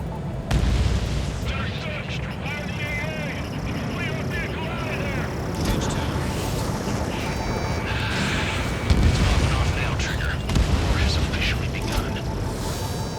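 Booming explosions burst in an Ace Combat 7 mission as an anti-air radar vehicle target is destroyed, heavy rumbling blasts under steady jet and game noise, with radio voices talking over the action.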